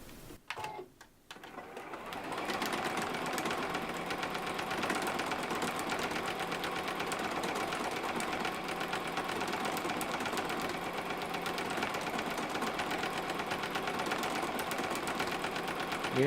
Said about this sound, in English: the machine is going to automatically select a different size heart every time it sews it